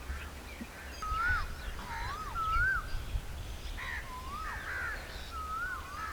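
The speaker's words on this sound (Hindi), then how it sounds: "चारों तरफ कोयल के कूकू की आवाज़" Koel cuckoos call in a village near Kahuta, Pakistan, with repeated rising whistled notes coming faint and somewhat distant over a low rumbling outdoor background.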